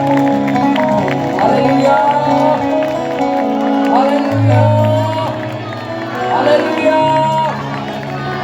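Worship crowd at a live praise and worship gathering in Larkana clapping and cheering steadily throughout, mixed with loud singing and chanted praise over music.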